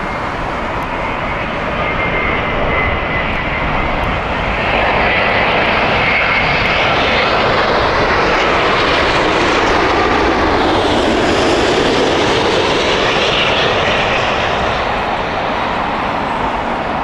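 A British Airways Boeing 787 passes at Heathrow, its engines a loud, sustained roar that builds and holds for the whole stretch, sweeping gradually in pitch as the jet goes by, with no voices over it.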